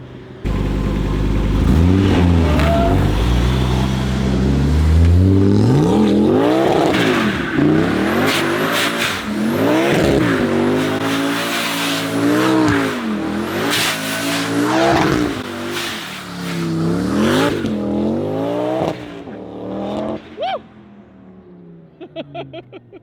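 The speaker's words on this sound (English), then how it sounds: "I think that was a Hoonigan burnout, man." Car doing a burnout with loud, repeated revving that rises and falls in pitch over tire squeal and skidding, close and sustained for around twenty seconds before dropping to quieter idle sounds at the end.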